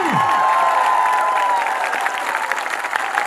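A crowd at a political rally in Mewat for MP Imran Pratapgarhi bursts into dense, continuous applause that stays strong throughout.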